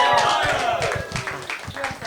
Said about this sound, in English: guys, clap it up for our guest